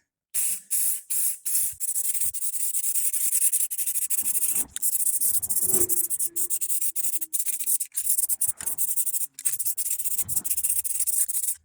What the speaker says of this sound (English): we're going to go ahead and shoot this with paint